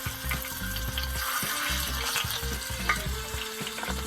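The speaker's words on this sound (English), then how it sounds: "There's that catfish. Let's get some catfish out there. Oh, there's the sizzle." Catfish sizzles in bacon grease on a hibachi grill aboard a boat, a steady close crackling fry with scraping and clinks of utensils over a low engine-like hum.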